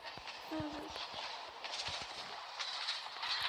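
Train departing in a Roblox video game, with a soft rumbling, rolling rail noise under faint game sounds, steady and moderately quiet throughout.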